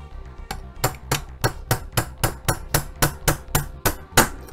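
Steady, evenly spaced hammer taps knocking out the two trigger housing pins of a rifle action removed from its factory stock, about a dozen close, loud metallic blows in a regular rhythm.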